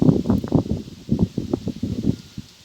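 Wind buffets the microphone in rough, rumbling gusts, low and close, with a faint steady hiss behind it.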